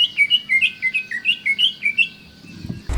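A green leafbird in an overexcited breeding state chirps in a quick, repeated series of bright, high two-note calls, fairly close and clear, ending with a short thump of handling noise.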